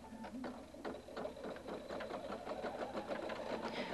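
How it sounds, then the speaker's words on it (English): A Husqvarna Viking Designer 1 embroidery machine stitches with a steady, rapid mechanical whir and patter, running close and continuous throughout. "Touch the start-stop button to resume embroidering."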